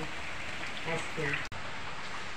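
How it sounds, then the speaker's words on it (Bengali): Rain falls outside in a steady, dense hiss that runs throughout, with a voice speaking briefly over it. "বাইরে বৃষ্টি হচ্ছে।"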